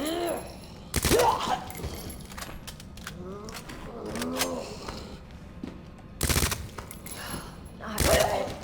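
Submachine gun fire in the Resident Evil 2 Remake game, loud bursts near the start and end with softer shots between, under an ongoing murmur of game sound and possible voices.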